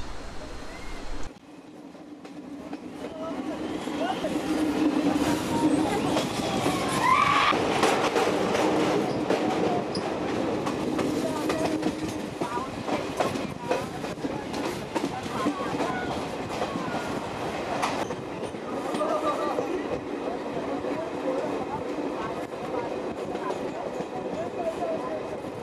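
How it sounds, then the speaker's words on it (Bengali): A train climbs slowly along a hilly mountain track through a string of tunnels, with a steady, loud rolling rumble and rattling wheels, some clicks and a brief squeal. Voices can be heard faintly at times. "পাহাড়িয়া পথ বলে আমাদের ট্রেনটা এত আস্তে আস্তে যাচ্ছে"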